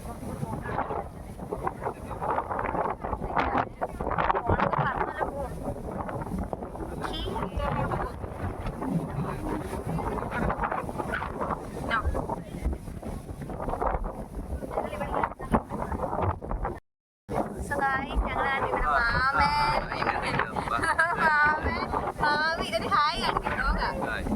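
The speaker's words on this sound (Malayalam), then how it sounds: "കാറ്റ് രക്ഷയില്ല. ഭയങ്കര കാറ്റ്." Strong wind buffets the microphone with loud, constant rumbling gusts on an outing at Kuttikkanam, and voices are heard through it. A brief dropout comes near the end.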